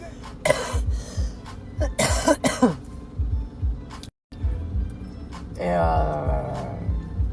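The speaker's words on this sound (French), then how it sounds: "c'est de tousser comme ça sans cesse" A person coughs in several harsh bursts, some in quick succession, close to the microphone, with a short throat-clearing rasp near the end.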